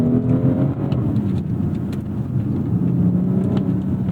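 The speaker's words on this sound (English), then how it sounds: "Man, this Burble tune is obnoxious." A 2019 BMW X3 M40i in sport mode with paddle-shift manual, its exhaust giving a steady, loud low burble and engine drone throughout, with faint crackle-like ticks scattered over the rumble.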